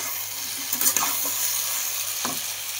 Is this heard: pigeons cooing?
no